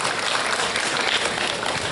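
An audience at a school event claps in a full, steady round of applause throughout.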